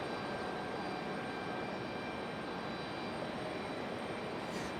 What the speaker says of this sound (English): both of these Southwest planes are going to go out back to back.